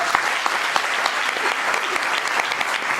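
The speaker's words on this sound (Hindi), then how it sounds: "बहुत जबरदस्त तालियां।" An audience at a network marketing seminar breaks into loud, close applause, a dense continuous burst of many hands clapping for a few seconds with no speech on top.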